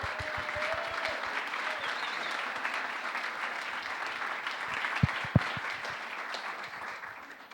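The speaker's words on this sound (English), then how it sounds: "So I would like a thoughtful round of applause for everyone at Crecimiento." Audience at a crypto conference closing ceremony giving a sustained round of applause for the organizing team, even dense clapping from a large room with a couple of sharp louder claps near the end.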